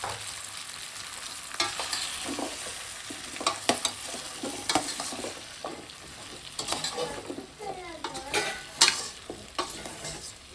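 Drumstick, potato and brinjal fry in a pan with a steady sizzle, broken up by frequent scraping and clinking as a spoon stirs the pieces close up.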